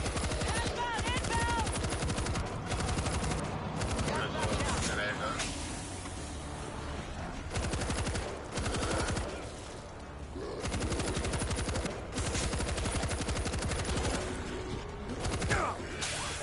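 Sustained machine gun fire in World War Z during a Jerusalem mission, long continuous rattling bursts with short pauses, heard under players talking.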